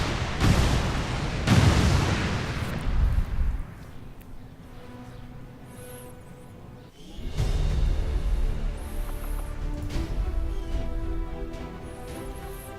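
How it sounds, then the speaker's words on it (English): Explosions from detonating charges in the XCOM strategy game: a heavy blast with booming low rumble, a second burst, then a long decaying roar with layered debris and game sound continuing, loud and close, with no voices. "Detonating charges."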